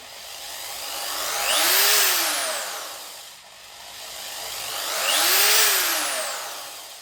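Parkside PNS 300 B3 two-speed corded drill screwdriver, run up twice in succession, each time its motor whine rising smoothly to full speed and then winding back down, loud and close with no talk.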